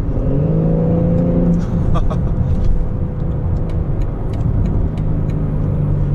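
A BMW M4 Convertible facelift engine drones steadily and loudly at partial throttle, its pitch climbing briefly early on before holding a smooth, sustained hum.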